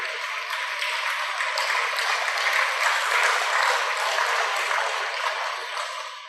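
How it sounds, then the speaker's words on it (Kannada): An audience at a spiritual talk in Mysore claps steadily, a broad wash of applause that stays even for about six seconds and then tapers slightly, with no talking. "ಅದಕ್ಕಾಗಿ ಒಂದು ಸ್ವಲ್ಪ ಜೋರಾಗಿ ಚಪ್ಪಾಳೆ ತಗೊಳ್ರಿ"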